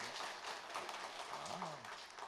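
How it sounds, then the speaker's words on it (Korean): A church congregation at a special early-morning service claps together after the choir's praise, a fairly faint, steady patter of hands with a voice briefly rising over it partway through. "박수하겠습니다"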